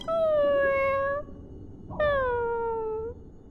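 A creature in the video game Honkai: Star Rail gives two drawn-out, wavering meow-like cries, loud and close, with a short pause between them. They sound like a cat mewing or sobbing.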